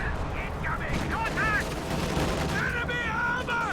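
An artillery barrage of howitzers in Company of Heroes 2, during a 3v3 match, sounds as a dense, continuous roar of distant detonations with rising and falling whistling tones over it and no pause throughout.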